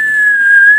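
A person whistles one sustained, steady high note to call pigeons down. The whistle is loud, close and alone.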